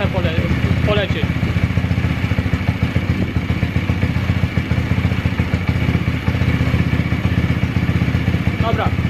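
A pit bike motorcycle, recently dropped on its side and with modified ignition timing, idles steadily while warming up, a loud continuous close engine note with a rhythmic putter throughout.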